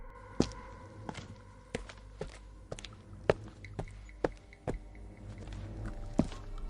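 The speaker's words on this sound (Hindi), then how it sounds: "वो कदम तेजी से सीढ़ियों से होते हुए उसके बेडरूम की तरफ आ रहे थे।" Quick footsteps come up the stairs of a house toward a bedroom at night, as a series of dull thuds in an uneven but steady rhythm, alone and fairly close.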